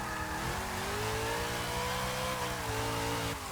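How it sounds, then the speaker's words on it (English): Plymouth Prowler V8 in the racing game Forza Motorsport 6, revving high and sustained with a rising, wavering engine tone while drifting, loud and continuous with no talk. "the revs on this thing are insane though."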